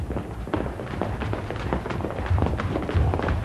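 A group of people running in place on a hard floor during an exercise class, a dense patter of footfalls and soft thuds, close and continuous.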